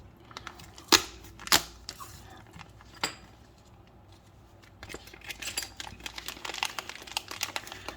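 Packaging around aluminum RC car parts, C and D blocks for a TLR 8X, is opened with a few sharp crinkles and snaps, then a quieter run of rustling and crackling plastic.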